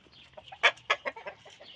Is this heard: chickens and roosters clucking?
yes